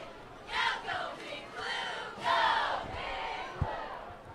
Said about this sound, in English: You can hear them in the background, the Quartz Hill cheerleaders.